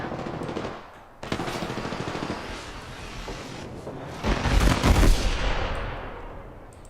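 Video game gunfire in a ranked shooter match: bursts of rapid automatic fire with heavy booming impacts, loud and close, the densest volley surging in the middle before tailing off.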